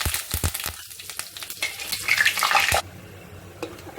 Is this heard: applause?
no